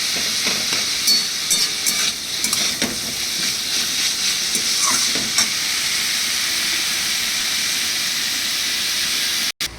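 Sliced banana stem sizzles steadily in hot oil in a pan, loud and close, with repeated scraping strokes as a spoon stirs it, ending in a brief cutoff.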